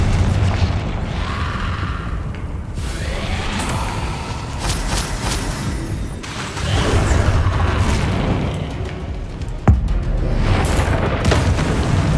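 Repeated Confringo blasting-spell explosions in Hogwarts Legacy, a dense run of booming bursts over continuous rumbling game noise, with one sharp, loud blast standing out near the end.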